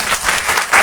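A church congregation applauding during a Sunday service: a brief, loud burst of many hands clapping together, swelling toward the end.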